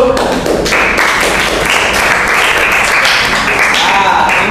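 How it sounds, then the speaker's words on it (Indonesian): A class of ninth-grade students at a school presentation clap loudly and continuously, with a voice speaking over the close, dense applause throughout. "tepuk tangan dulu"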